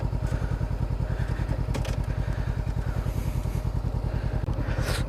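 A motorcycle engine runs steadily and close on a rough exam track, throttle held through a 50 km/h run then braking, with a constant pulsing drone and a few clunks and rattles from the bike.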